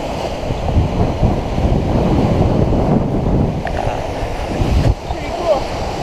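Strong wind buffeting the microphone over breaking waves on Lake Tahoe on a cold, windy day, loud and continuous rushing with surging swells throughout.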